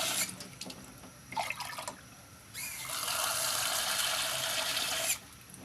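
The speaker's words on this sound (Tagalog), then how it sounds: "Dagdagan ko yung tubig. Kasi Ilalaga pa natin yan." Water is poured into a cooking pot for sinigang, giving a soft, steady splashing and filling sound that runs for a few seconds after some faint dribbles, with no talking.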